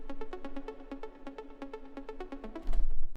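Bright progressive house synth break pluck notes repeat in a quick, steady rhythmic pattern during the breakdown, with a low thump swelling in near the end.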